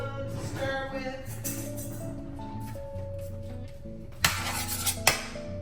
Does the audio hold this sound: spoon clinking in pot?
yes